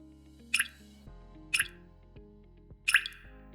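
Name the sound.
water dripping inside LG refrigerator door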